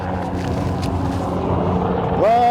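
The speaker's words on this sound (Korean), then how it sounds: "와, 군용헬기까지 왔다." Low-flying military helicopter passing overhead outdoors on a windy day, a steady rumbling drone under a voice, followed by a rising engine whine at the end.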